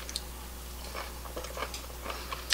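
Someone bites and chews aged pumpkin kimchi made from old pumpkin, producing soft intermittent crunchy, squishy chews up close over a steady low hum, with no talk.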